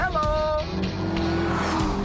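An FPV GT with a V8 engine races hard on a circuit against a Renault Clio RS, its motor roaring as the tires squeal through a corner, with someone talking over the noise.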